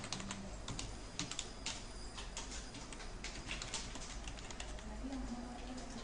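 Quick, irregular clicking of keys on a computer keyboard as an email ID is entered, soft and close, with brief pauses between bursts and quiet speech in the background.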